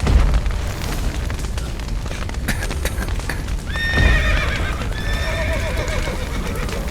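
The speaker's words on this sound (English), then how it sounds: "The horses!" Horses neigh and whinny in the video game The Witcher 3: Wild Hunt over a steady rumble of hooves and low booming, with several shrill whinnies rising in the second half.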